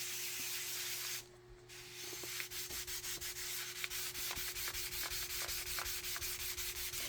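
Steady rubbing strokes while working a watercolor painting, a soft repetitive scrubbing with regular short pulses, close and moderately loud against a constant background hum.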